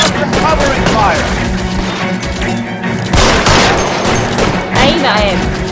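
Heavy gunfire with loud bursts and booms from a shootout at the Nicholson Electroplating plant in L.A. Noire, mixed with shouting voices and crashing impacts throughout.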